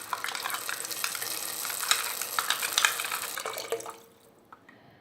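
A pan of fenugreek kara kulambu with tamarind water being stirred, giving a steady wet sloshing and light sizzle up close that drops away near the end.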